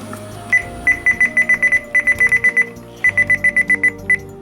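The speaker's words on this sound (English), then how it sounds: "let's get into the button beeps" Rapid bursts of short, identical electronic beeps from Uniden Bearcat BCT8 radio scanner buttons, pressed in quick runs with brief pauses between groups, loud and close with no voices.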